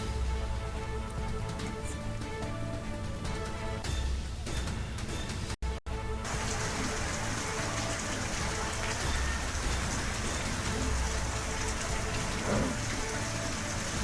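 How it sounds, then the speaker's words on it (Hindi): Heavy rain pours down during a dust storm, a dense, steady hiss of drops on surfaces that carries on unbroken and fairly loud throughout, with no voices over it. "धूल भरी आंधी के साथ हो रही तेज बारिश"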